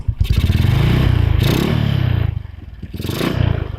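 A Honda Wave 125 motorcycle engine revs up and down during an RPM test, loud and close, with pulsing throttle swells and a dip before climbing again.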